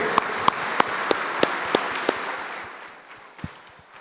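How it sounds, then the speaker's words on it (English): Audience applause for the secretaries at a 72nd anniversary dinner, a run of sharp claps fading out over a few seconds, fairly near and alone without talk. "let us give our secretary a big round of applause"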